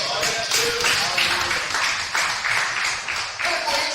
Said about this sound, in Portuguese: Quantos podem dar uma salva de palmas para Jesus?